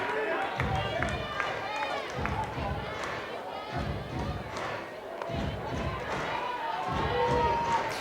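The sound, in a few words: crowd noise at a college softball game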